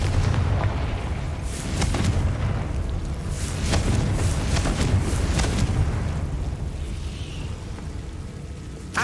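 Fiery spell blasts from the Confringo curse in Hogwarts Legacy on PS5, a dense barrage of loud booming bursts and crackling impacts sustained throughout, with repeated sharp hits over a rumbling low roar.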